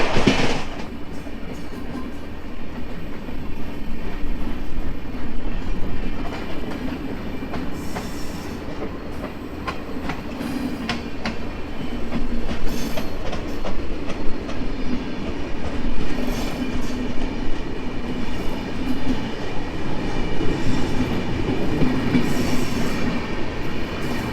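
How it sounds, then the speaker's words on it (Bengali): Jagannath Express train running on rails between Puri and Shalimar, heard from inside with steady rumble and rhythmic clickety-clack of wheels over joints, growing louder in the last few seconds. "ঘন্টা পঁয়তাল্লিশ মিনিট দেরি করে এখন আমাদের ট্রেন ঢুকলেও সাঁতরাগাছিতে"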